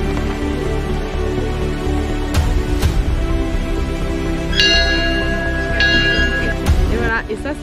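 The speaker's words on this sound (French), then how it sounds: "il faut sonner la cloche" Hikers ring a trailside bell by tradition on a hiking route; a few sharp metallic rings and ringing tones cut through over several seconds under ongoing conversation and outdoor noise.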